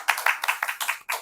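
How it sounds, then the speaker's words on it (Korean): A small group at a church Bible study claps together in a quick, uneven run of about eight sharp hand claps, close by and without talk. "우리 박수하면서 시작하겠습니다."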